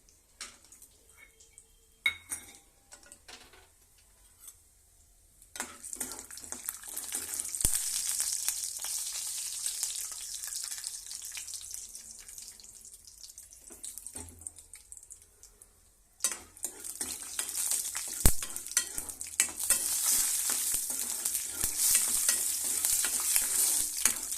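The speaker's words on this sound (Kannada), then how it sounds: "ರೀ ಬೀಜ ಫ್ರೈ ಮಾಡ್ಕೊತೀನಿ ರೀ" Peanuts sizzle and crackle in hot oil in a pan while a spoon stirs and scrapes them, the frying rising in two long bursts after quieter stretches with light clinks.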